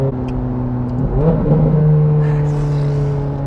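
A Ferrari 430 Scuderia engine idles with a steady low drone, then revs up sharply for a moment before settling back to a rough, throaty idle.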